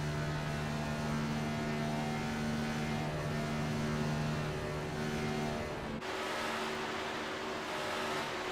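A steady race car engine drone from the iRacing video game at Chicagoland Speedway, with sustained tonal hum, like a car holding throttle, shifting character abruptly partway through; no voices.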